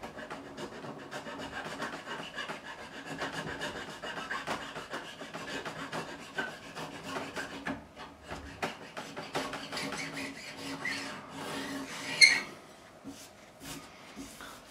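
A small file rolls the fret edges on a Bloodstone Telecaster's fingerboard, making close, steady rasping strokes that repeat throughout, with one sharper scrape near the end and no talking.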